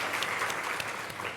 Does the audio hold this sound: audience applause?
yes